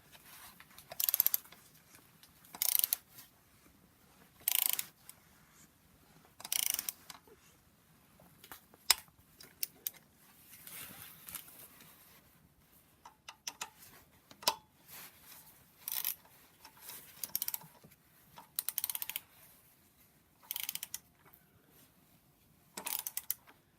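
Intermittent mechanical clicks and short ratcheting bursts from a hand ratchet torquing steel bolts on a BMW N54 engine from a 135i, coming in separate spaced runs, fairly close but quiet, with no talking.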